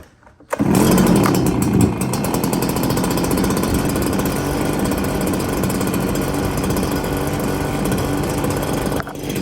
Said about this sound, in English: This one usually fires up on the second pull as well.